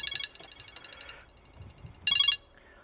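A mobile phone rings with a bright electronic ringtone: a quick run of repeated tones, a pause, then another short loud burst, heard clearly on its own.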